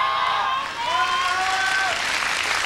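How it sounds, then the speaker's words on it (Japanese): A packed crowd at Korakuen Hall applauds and cheers at a 1995 women's wrestling event, a broad roar with whistle-like tones rising over it. A commentator's voice runs beneath. "満員の後楽園ホール、ファンからの大きな歓声を浴びています。"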